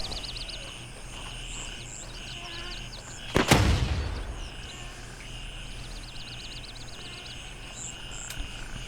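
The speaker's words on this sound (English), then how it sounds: "It's my first time using a grenade in GreyZone Warfare" A grenade blast in the GreyZone Warfare video game, one sharp loud explosion with a rumbling decay. It stands out over a steady jungle ambience of croaking frogs and chirping insects.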